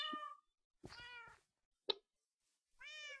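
Several cat meows from Minecraft cats, in a shape-shifter mod setting, come in three separate bursts with short gaps between them. Each is a clear, near, harmonic call, with a brief sharp chirp in the middle.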